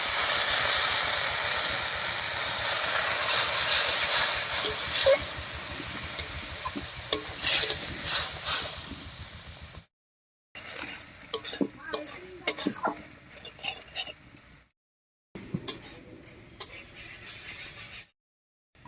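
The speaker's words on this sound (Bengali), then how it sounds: "এবার একটু মশলা বাটা জল দিয়ে কষিয়ে নেব" Spice paste and water stir-fried in a pan for a Bengali snakehead (lata) fish curry with onion and garlic: steady loud sizzle with scraping stirs for about ten seconds, then broken bursts of sizzling and utensil clatter separated by brief silences.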